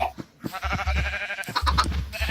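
Several short sheep bleats in quick succession, clear and close, with a few soft clicks between them, in the video game Minecraft.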